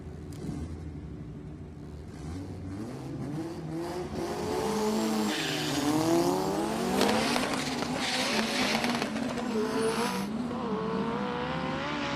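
Four-cylinder drag car in the Pro 275 class at a Souped Up 2025 qualifying pass, engine note climbing steadily in pitch as it accelerates, loud and continuous with a harsh high-end roar building toward the end.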